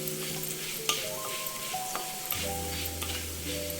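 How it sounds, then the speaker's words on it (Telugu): Coriander seeds for ginger pulusu crackle and fry in a pan, a quiet, even sizzle with occasional sharp ticks and a soft stir partway through. "ధనియాలు కూడా చక్కగా వేగాలి."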